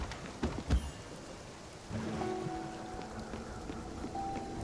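Continuous rainfall in the game Spiritfarer, with a couple of low thumps early on, then a fuller wash of rain under gentle held musical notes, and no talking.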